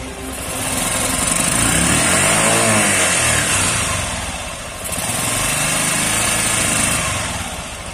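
A Honda Cargo 125 motorcycle with a charging-system fault revs up close and loud, holding high before briefly dropping around midway and surging again, a steady droning engine note with no speech.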